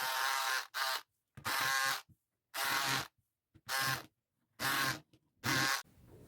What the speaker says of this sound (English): So I'm going to use my handy dandy electric scissors